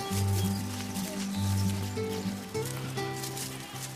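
Several goats of a traditional herd in Ardèche, France, bleat in overlapping, sustained calls, fairly close, with a soft rustle of movement beneath.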